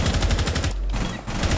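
Video game gunfire at a LAN event, dense rapid automatic bursts loud and close, briefly thinning midway before resuming.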